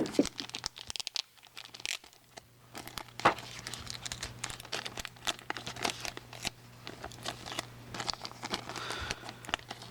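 Plastic wrapping around the trading card and manual for a Takara Transformers Masterpiece Hot Rodimus MP-28 is crinkled and torn open, with steady close crackling, rustling and short tearing bursts and no talking.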